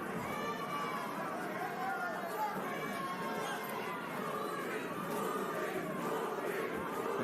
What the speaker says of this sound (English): The crowd getting a chant of Purin going for Caraballo